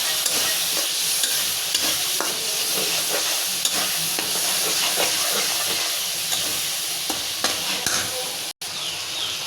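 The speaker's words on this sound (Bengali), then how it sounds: "আমি চিংড়ি মাছটা একটু ভালো করে ভেজে নিব।" Shrimp frying in a pan for a green banana curry, a steady loud sizzle and hiss with occasional stirring scrapes, no voices.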